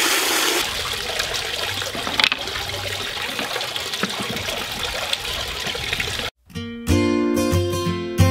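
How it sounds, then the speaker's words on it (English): Water rinsing pond rocks, a steady loud splashing gush that cuts off abruptly, then resumes as a brighter trickling pour. "what I'm gonna have to do is just rinse them off real quick so we don't get all that kind of dust and powder inside the pond"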